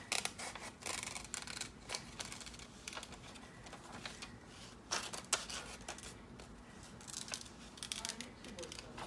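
Scissors snip through a magazine page in quick, close, irregular clicks and crisp cuts over a faint hiss, with brief pauses between bursts.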